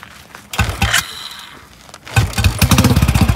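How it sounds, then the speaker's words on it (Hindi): A Royal Enfield Bullet motorcycle is started on choke, with a couple of loud, rough bursts of cranking and firing before the engine catches and settles into a rapid, thumping idle close by. "अब चौक में आप स्टार्ट करो और देखना कितनी ओवर हो जाती है"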